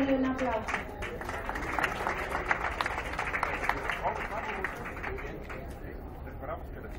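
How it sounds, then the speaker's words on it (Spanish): An audience claps in a steady, moderately loud patter at a handover ceremony for farm supply and drought support packages in Mezquital, Mexico, 2013. The clapping lasts several seconds and gradually thins out. "Démosle un aplauso"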